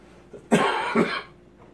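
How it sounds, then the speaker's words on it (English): Two quick, rough coughs close to the mic, one right after the other, with near silence around them. "And I cough, and I'm still on camera."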